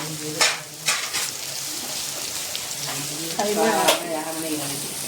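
Minced mutton keema fries in a pan with chili powder, turmeric and salt, crackling in a constant sizzle broken by several sharp scrapes and clanks of stirring, with a voice briefly heard over it.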